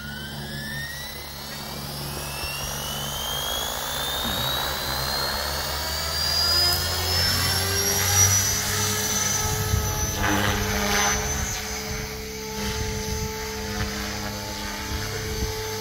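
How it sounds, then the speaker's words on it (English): A radio-controlled helicopter flies inverted nearby, its rotor and electric motor giving a steady, high whining drone with rising and falling pitch. "Makes it easier for somebody learning how to fly inverted flight on a helicopter."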